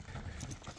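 A young two-year-old horse walking, hooves clip-clopping at a steady close rhythm throughout, with faint voices in the background.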